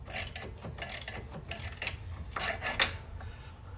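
A hand ratchet with a swivel socket turns a bolt while rear lateral links are replaced on a 2009-2020 Dodge Journey, making a run of quick, close mechanical clicks and grinding turns.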